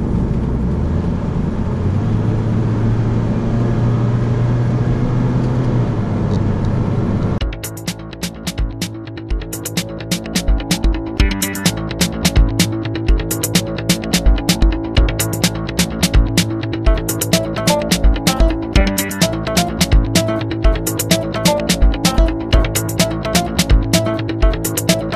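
A Mitsubishi Lancer on the move, its engine droning steadily before a quick gear change, after which road and engine noise carry on with many sharp clicks and ticks scattered throughout.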